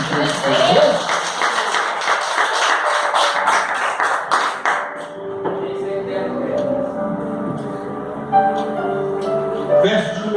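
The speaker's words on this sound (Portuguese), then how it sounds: "Então aplaude o glorifica de Deus." A church congregation applauds during a communion service: dense, sustained clapping from many hands fills the first half, then fades into a quieter room with lingering voices and scattered sounds.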